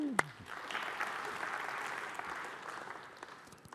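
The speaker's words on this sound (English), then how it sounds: "Now that deserves applause." A conference audience at a Tech·Ed Australia session breaks into applause, a soft, steady wash of many hands at a distance that fades out over a few seconds after a brief voice at the start.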